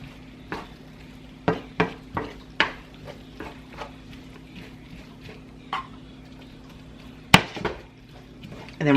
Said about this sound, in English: I'm going to go ahead and add this to the quinoa in with our onions and mushroom mixture. Just going to stir that around.